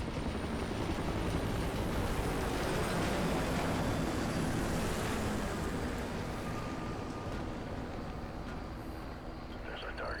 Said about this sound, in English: Chopper's landing.